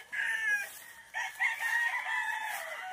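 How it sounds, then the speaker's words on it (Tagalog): A rooster on a farm in Pangasinan crows loudly and close, two drawn-out calls in quick succession with a brief break between them. "Oh, shout out sa iyo, manok."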